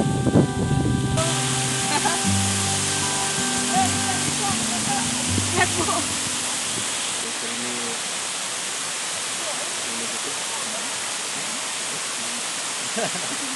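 Skakavac waterfall in forest near Sarajevo, Sutjeska National Park, a steady broadband roar of falling water that runs throughout, with low voices and a few other sounds over it in the first seconds.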